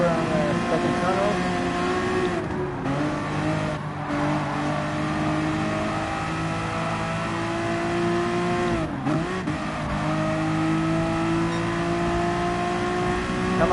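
Honda NSX engine in the racing game Gran Turismo Sport, a steady loud droning whine with rising and falling revs through gear changes, a few brief dips, heard continuously with a voice talking over it.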